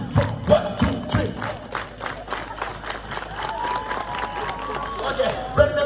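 A crowd at a stage show claps in steady rhythm along to a count, producing sharp, evenly spaced claps with cheering and voices mixed in.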